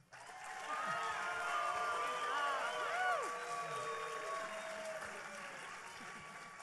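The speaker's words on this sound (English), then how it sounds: "And how about a round of applause for their husbands?" Applause and crowd cheering fill the hall at a Mrs. International 2017 pageant, with many overlapping whoops and shouts over steady clapping that swells early, peaks around the middle and then slowly eases off.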